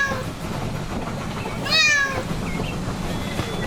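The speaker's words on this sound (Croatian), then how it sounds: "Mačka." Single short cat meow rising and falling once midway, moderately clear over a soft background bed in a children's animal-words song.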